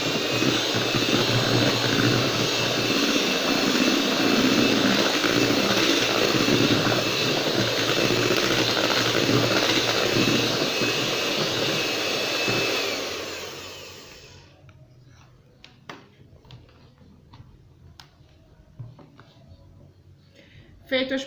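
An electric stand mixer beats a non-alcoholic wedding cake batter with a loud, steady whirring drone for about thirteen seconds, then switches off, leaving only faint scattered kitchen noises.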